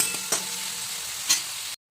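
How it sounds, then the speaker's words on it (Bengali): Cashews and raisins fry in a pan, giving a short, steady sizzle with two quick stirring taps before the sound abruptly stops. "আর কাজু কিশমিশটা আমি দিয়ে ভাজবো।"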